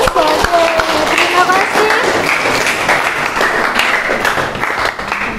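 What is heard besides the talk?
audience applause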